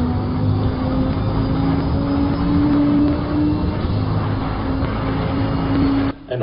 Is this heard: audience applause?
no